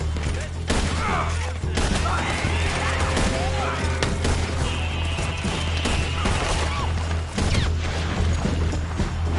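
Gunfire crackles through a shootout with O'Driscoll gang members in a video game, dense bursts and booms layered with shouting voices, loud and continuous throughout.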